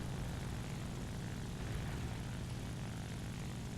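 Propeller aircraft engine in War Thunder historical battles, a constant buzzing drone with strong low rumble, moderately loud and unbroken, alone without talk.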